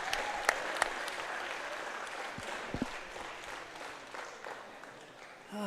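Crowd applause at the World Wallball Championship fills the whole stretch as a steady dense patter, fairly distant with a few sharper claps, then tapers slightly before swelling again at the end.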